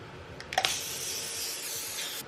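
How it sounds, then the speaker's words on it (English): Hairspray misted onto hair from an aerosol can: a steady close hiss of about two seconds after a couple of brief clicks or sprays, with no talking. "I might just do a quick mist of hairspray"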